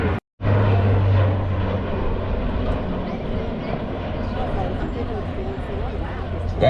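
Blue Angels jet airplane performing a pushover at a Pensacola Naval Air Station air show, a loud continuous broadband jet roar that holds steady throughout, with voices faintly audible beneath the noise.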